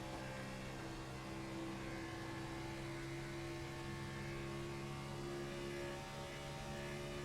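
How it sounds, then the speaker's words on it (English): Onboard a race car heading into turn one, the engine hums steadily and loud as the driver feathers the throttle, an even droning tone without talk. "Listen to how he feathers that throttle going down into 1."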